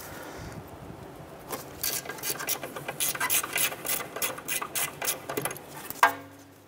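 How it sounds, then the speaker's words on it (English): A 12 mm socket works a bolt loose on the front suspension of a 2008-2012 Honda Accord, with repeated close raspy ratcheting and rubbing strokes, ending in a sharp metallic clink. "Using a 12 millimeter socket, let's go ahead and loosen and remove this bolt here."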